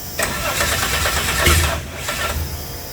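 A V6 turbo drag car engine cranks, catches and runs with a rough, loud mechanical roar up close, rising briefly in the middle before settling.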